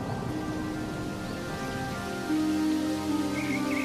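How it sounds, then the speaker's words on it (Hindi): Steady rain patters softly in a storytelling scene, a continuous hiss beneath sustained musical tones that swell midway. "जब तक कि यह बारिश नहीं थम जाती"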